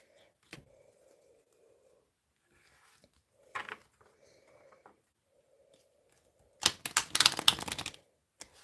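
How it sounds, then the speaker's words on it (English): Tarot cards riffled and shuffled close by in quick bursts: a few soft flicks, then a dense rapid ripple of snapping cards near the end. "I'm giving these a good shuffle"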